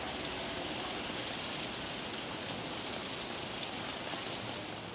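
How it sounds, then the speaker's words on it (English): Steady heavy rain pours down during a stop on the way to Icon Siam in Bangkok, a dense, even hiss of drops with occasional sharper patters throughout. "wait until the rain subsides, which, I don't know, it looks like it might rain for a while"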